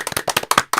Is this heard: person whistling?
no